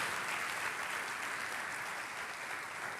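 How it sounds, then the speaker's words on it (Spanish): A church congregation applauds for the King during a sermon: dense, steady clapping from many hands fills the space evenly and continuously at a moderate, somewhat distant level. "Aplauden al Rey."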